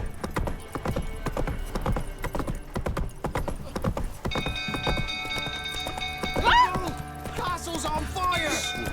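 Rhythmic hoof clip-clops of a horse walking in The Witcher 3: Wild Hunt, repeated steadily and fairly close, with a short whinny and some background game sounds later on.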